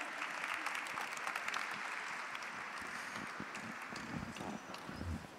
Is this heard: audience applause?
yes